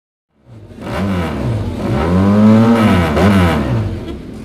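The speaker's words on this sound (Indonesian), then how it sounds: "di tempat berkumpul dengan ditemani Hinata, datanglah sekelompok geng motor" A motorcycle gang rolls in with engines revving, one loud close engine note that swells in pitch and holds, rising again before the end, with no talk over it.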